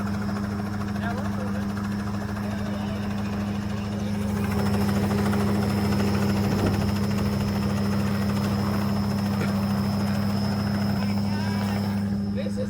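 A helicopter flies nearby over water where boats are towing, giving a steady, loud engine-and-rotor drone for the whole stretch that swells slightly midway. Voices are faintly present underneath.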